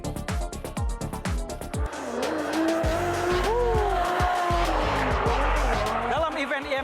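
Drift cars at a D1GP championship in a Tangerang parking lot squeal their tires in long wailing skids over revving engines, loud and close, with a voice talking over part of it.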